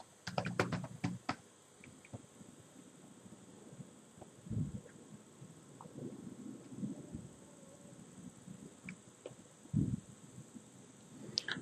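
Keys clatter on a computer keyboard in quick bursts, a cluster of rapid taps at the start and scattered keystrokes after, faint and close over a low background hum with no talking.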